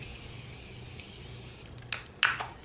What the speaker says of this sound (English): I'm gonna spray myself.